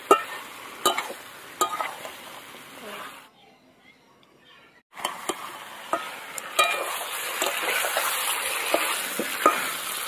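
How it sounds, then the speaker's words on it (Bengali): Chicken curry sizzles in a pan as it is slowly sautéed, with a steady frying hiss, scraping stir strokes and clinks from the spatula, briefly dropping to near silence midway before the sizzling resumes. "এবার এইভাবে আস্তে আস্তে কষাবো।"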